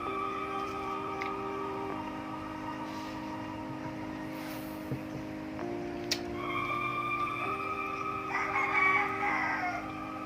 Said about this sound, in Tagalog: Ano pinaningog mga manok?